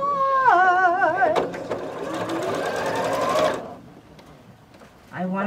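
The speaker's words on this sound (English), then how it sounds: "has 3 pins in it before I sew it" A sewing machine runs steadily, stitching a small 4.5-inch quilt block with pins in it, then stops. A voice talks over it at the start and again at the end.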